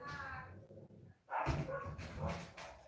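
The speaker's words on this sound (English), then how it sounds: "I got to hear the dogs bark." Dogs bark in several sharp, close bursts after a quiet stretch, the barking coming in quick clusters with faint background noise.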